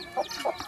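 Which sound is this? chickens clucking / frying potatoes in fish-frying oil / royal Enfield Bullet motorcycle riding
chickens clucking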